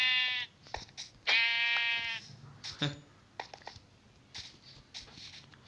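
Minecraft goat bleating in a video game, a long harmonic bleat followed by a second one, with soft game clicks and brief sounds around it; no speech over the calls.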